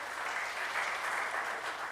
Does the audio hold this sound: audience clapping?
yes